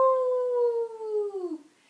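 A person's voice imitates a wolf howling at the moon during a kids' yoga session, a single clear sustained howl that slides slowly downward and fades out within two seconds.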